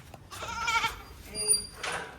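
A young goat kid bleats twice in short, wavering cries, close by, with people talking around it.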